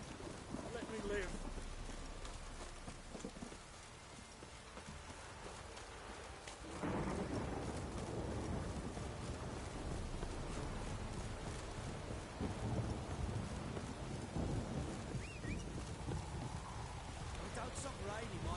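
Steady rain with deep rolling thunder in The Witcher video game, a continuous dense wash of rainfall with a louder thunder rumble swelling in partway through and a brief voice behind it.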